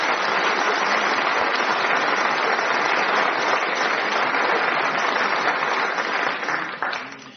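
A studio audience at a Brain of Britain quiz final applauds a winner with a sustained, full round of clapping that stays even and then thins out toward the close.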